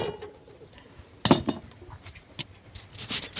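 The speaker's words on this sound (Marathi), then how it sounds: "आता आपण याच्यात ताट ठेवून घेऊया" A metal plate set down into a preheated kadhai while baking nankatai without an oven, giving one sharp metallic clank followed by a few lighter clinks and scrapes, close and fairly quiet.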